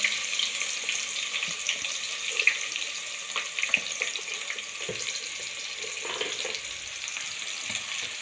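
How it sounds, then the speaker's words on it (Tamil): Crushed onion, ginger and garlic sautéing in a pan for chicken gravy, a steady close sizzle like running water with occasional soft stirring scrapes. "வெங்காயம் தட்டி வச்சு இஞ்சி பூண்டு ரெண்டையும் போட்டு வதக்கிக்கணும்"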